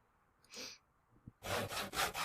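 Wood is sawn with a handsaw during carpentry in the video game Project Zomboid: a single stroke, then a quiet pause, then several quick rhythmic strokes, close and clear with no talking.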